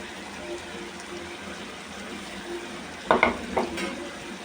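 A Bangladeshi winter vegetable bhaji of beans, potato and tomatoes fries quietly in a pan with a faint sizzle, then a spoon stirs it in a few quick scraping strokes near the end. A voice talks softly over it.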